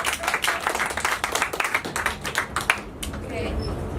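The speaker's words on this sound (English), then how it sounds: "Everyone give her a round of applause." An audience breaks into applause for a woman called up on stage at a show in Shanghai, a dense burst of clapping that thins out after a few seconds while someone talks over it.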